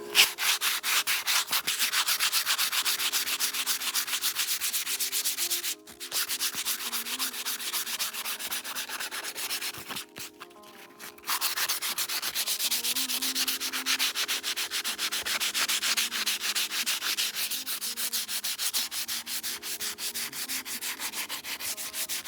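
Sandpaper rubbed steadily over burnt timber, a continuous close scratchy rasp of rapid back-and-forth strokes with two brief pauses, no voices.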